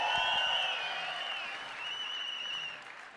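An audience at a leadership talk breaks into loud, sustained applause with some cheering, a dense wall of clapping that slowly eases off over a few seconds.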